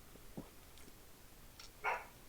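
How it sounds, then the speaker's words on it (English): A dog in a home gives a few brief, distant barks and yips spread across a couple of seconds, faint against quiet room tone. "starting to bark, and I think that's not good"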